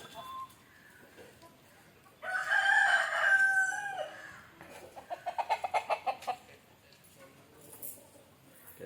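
Country chickens cluck near a coop being cleaned, with a loud rooster crow bursting out, followed by a run of rapid rhythmic clucks, then quieter fowl sounds over a soft background.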